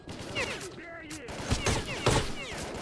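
Gunfire from a first-person shooter set in the S.T.A.L.K.E.R. zone, with several sharp shots bursting out over a busy game soundscape while voices talk throughout.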